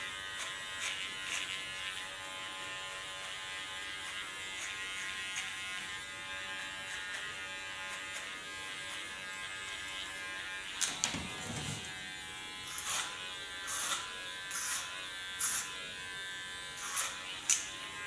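Electric hair clipper buzzing steadily up close while cutting a short pixie haircut, a constant hum broken by a few brief louder bursts and clicks in the second half.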